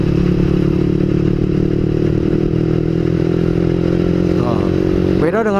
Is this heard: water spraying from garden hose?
no